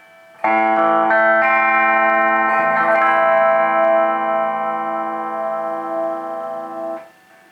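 Distorted electric guitar chords from the bridge pickup of a 1959 Les Paul Standard ring out, a few quick strums followed by a long sustained chord that slowly fades, bright and buzzy.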